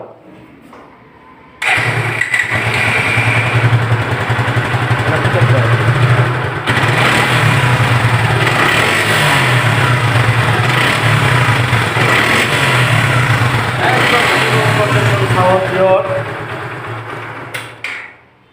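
A Suzuki Gixxer 155cc motorcycle engine starts up, then runs loud and close, idling with repeated revs rising and falling before it cuts off near the end.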